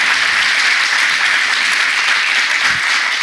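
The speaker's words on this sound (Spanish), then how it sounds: "Dale un aplauso al Señor." A church congregation claps together in a steady, loud, dense round of applause that holds evenly for a few seconds, with no talking over it.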